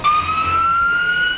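An ambulance siren wails as a loud, steady tone rising slowly in pitch, with a low vehicle rumble beneath it.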